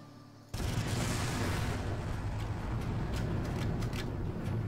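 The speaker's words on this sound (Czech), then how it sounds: "tenhle výbuch asi byl slyšet" A large explosion in the video game Far Cry bursts in suddenly and loud, then gives way to a dense, sustained roar of debris and rumble that holds for several seconds with no talk over it.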